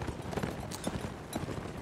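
Cavalry horses gallop in a strategy video game, a dense, rapid clip-clop of many hooves at a steady moderate level with no talk.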